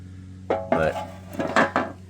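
A metal transmission pan from a rebuilt 4L60E out of an LS-swapped Monte Carlo is handled, giving several close clanks and rattles in quick succession over a steady low hum.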